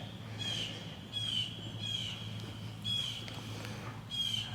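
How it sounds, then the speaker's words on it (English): A bird outdoors at a house in Arkansas gives repeated squawking calls about once a second, moderately close over a quiet, low background hum. "you can hear the birds singing, squawking, whatever that bird does."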